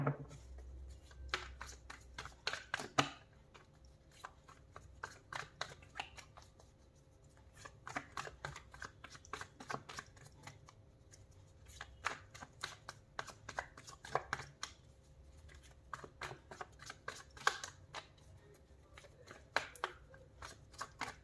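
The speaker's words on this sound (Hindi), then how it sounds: "कार्ड शफल करने में, लेने में टाइम लगेगा" Tarot cards being shuffled by hand, a steady run of soft papery flicks and riffling taps that continues quietly for about twenty seconds with no voice.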